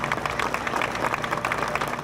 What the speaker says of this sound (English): barely able to see the police officers applauding in front of him